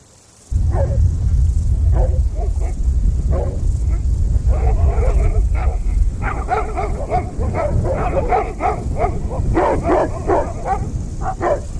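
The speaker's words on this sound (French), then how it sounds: "Quand les chiens aboient, c'est parce qu'ils ont peut-être peur de vous." Livestock guardian dogs protecting a flock bark and yip repeatedly at close range, an insistent, irregular volley of barks that grows busier, with occasional whimpering and someone speaking in between.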